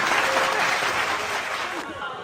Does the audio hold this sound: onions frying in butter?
no